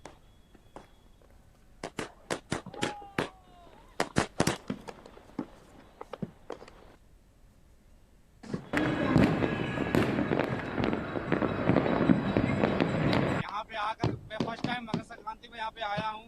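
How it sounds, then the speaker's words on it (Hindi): Fireworks and firecrackers go off at a Makar Sankranti celebration in Rajasthan: a run of sharp, separate bangs, then a dense, loud crackling barrage for several seconds, then more scattered pops. "इस तरह का पटाखे हमारे यहाँ दिवाली में छोड़े जाते हैं"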